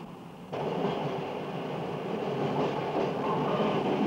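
Rheingold express train travelling on the railway near Freiburg: a steady, loud rolling rumble with faint wheel clatter that swells up abruptly after a brief quieter moment, then continues evenly, with no voices.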